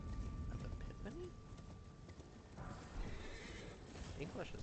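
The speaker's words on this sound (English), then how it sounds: "Wait, I can actually use my horse here?" A horse in a Dragon Cultist class video game whinnies with rising cries, its hooves clip-clopping, while a person talks over it.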